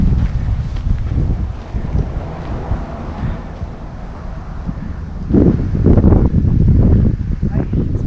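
Gusty wind rumbles and buffets the microphone outdoors at a free campsite on the Nullarbor in Australia, swelling louder toward the end, with a voice talking underneath.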